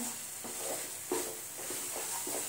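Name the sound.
stirring paneer and powdered sugar mixture in pan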